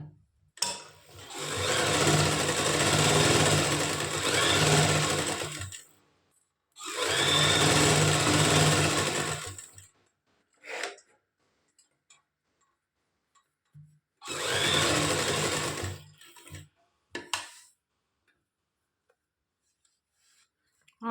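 Sewing machine stitching a halter-neck winter kurti, running loud in three long bursts of several seconds each, separated by pauses filled with small handling clicks and knocks.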